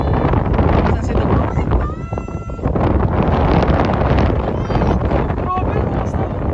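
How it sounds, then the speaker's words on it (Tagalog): Strong wind buffeting the microphone on a bridge at Baler, a continuous roaring rush with gusts, while people talk over it. "Kaya pala sa tinawag na hangin bridge kasi malakas yung hangin."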